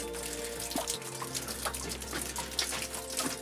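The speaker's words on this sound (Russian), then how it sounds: "что у нас тут льется вода?" Water runs and drips steadily in an underground cave carved into rock, a continuous splashing trickle with scattered individual drops over a low hum.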